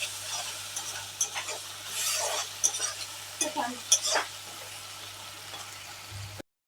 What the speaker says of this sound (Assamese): মছলাখিনি ভালকৈ ভাজি লওঁ